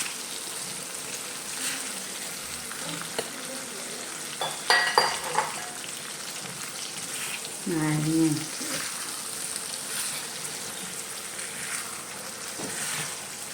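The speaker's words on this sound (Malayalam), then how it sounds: "നാരങ്ങ ഇട്ടു നല്ലോണം വഴറ്റണം." Lemons sauté in oil in a pan for a spicy-sour lemon pickle, giving a steady low sizzle with occasional scraping stirs and clinks of a spoon against the pan, and a brief voice part way through.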